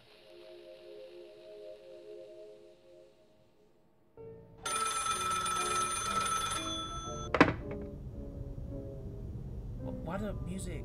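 In a psychological horror game about a firefighter, a telephone bursts into loud, bright ringing after a quiet, low stretch, then gives way to a thump and mixed noises.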